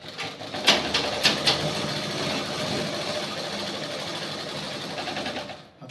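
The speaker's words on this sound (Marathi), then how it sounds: "त्याच्यानंतर आपण कच्ची शिलाई सुरू करू." A sewing machine runs a long basting stitch through fabric while a lined top is sewn, a close, steady rapid whirring chatter after a few short starting bursts, ending abruptly.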